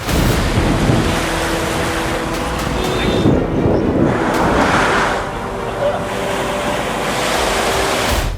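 Heavy rain pours down in Vijayapura district near the flooded Doni river, making a steady, dense, loud wash of noise throughout, with faint voices mixed in.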